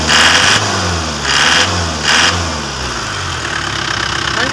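Isuzu Hilander engine running with a crankshaft pulley problem, a loud steady mechanical drone close by that swells in three brief surges and then settles into a lower, even hum as it slows.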